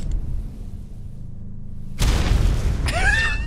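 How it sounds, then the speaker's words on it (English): A grenade explodes in ARK: Survival Evolved, Scorched Earth map. The loud boom comes suddenly after a quiet low rumble, followed by a lingering roar and rising whistling tones. "And just a normal classic grenade."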